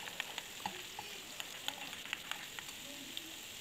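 Garlic frying in a little oil for a pasta sauce, a quiet steady sizzle with scattered small pops and crackles, fairly faint and alone.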